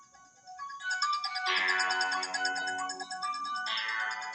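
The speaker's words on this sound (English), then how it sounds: "got my Halloween ringtone." A phone plays a spooky, chiming electronic Halloween ringtone melody with layered tones, fairly loud and close, with no talking over it.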